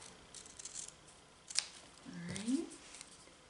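Scissors snip through quilting paper for half-square triangles, giving a couple of quiet, close cuts with a faint rustle of paper in a quiet room.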